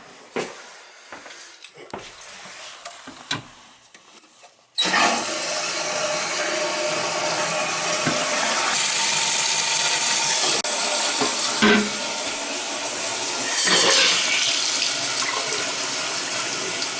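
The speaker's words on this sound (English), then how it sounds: "I'm gonna flush all the antifreeze out" Toilet and plumbing in a small winterized home on the water being flushed of antifreeze: a few quiet clicks and faint whimpers, then a sudden loud, steady rush of water that continues to the end.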